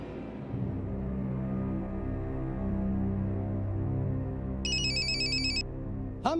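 A phone ringtone playing as a melodic, sustained tune in a Hindi TV drama scene, steady and moderately loud throughout, with a brief higher electronic chirp pattern partway through.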